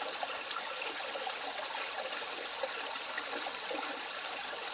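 Moving water trickling steadily through a backyard pond with hornwort, a continuous close gurgling wash with no talk.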